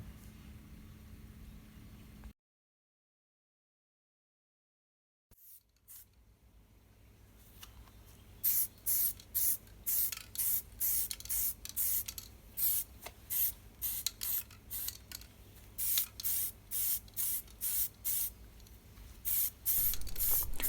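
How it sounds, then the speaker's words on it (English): An aerosol spray paints the chassis of a white metal LT Bo-Bo electric locomotive kit. After a quiet gap, a run of short, sharp hissing bursts repeats close by over a faint steady background hiss. "then it's the time to give it a good old spraying over"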